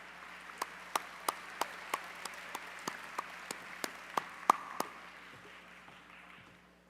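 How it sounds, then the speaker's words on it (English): Sparse, evenly spaced claps from a small audience at the 66th annual Silver Knight Awards ceremony, about a dozen sharp, fairly quiet hand claps over a low room hum, tapering off into silence. "Let's give them a round of applause."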